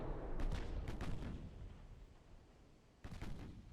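Warship guns fire in Ultimate Admiral Dreadnoughts, a 1940 German battleship battle: deep booming rumbles roll out at the start, fade, and then a fresh distant blast comes, with no voices.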